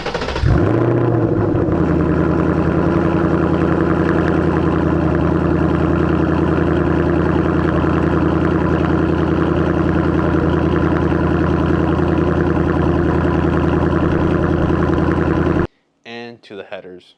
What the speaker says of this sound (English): let me show you guys how the car sounded in a cold start with just the MBRP exhaust